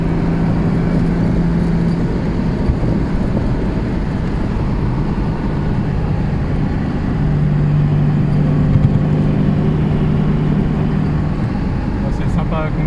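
A Jaguar MK2 340 saloon's engine running at about 4000 rpm on the road, a steady droning hum mixed with tyre and road roar heard from inside the car, with voices talking over it now and then.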